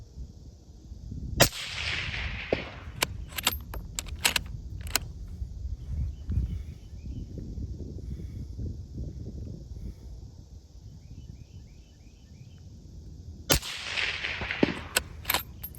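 Rifle shots from a gun fitted with an Athlon LPVO, fired both suppressed and unsuppressed: loud sharp cracks in quick strings near the start and again at the end, with quieter rustling between.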